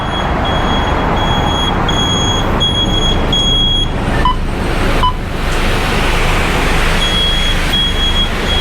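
Inside an almost empty city bus in Dubai, a loud, steady engine and road rumble fills the cabin, with a few faint electronic beeps.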